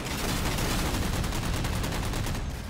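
Sniper rifle fire in Halo 4, a dense, loud burst of rapid shots crackling continuously for a couple of seconds with no talking over it.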